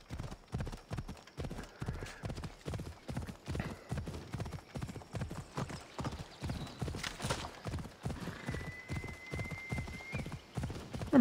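Phobos the horse in Assassin's Creed Odyssey gallops at a steady, even rhythm, with close, distinct hoofbeats and a faint whinny partway through.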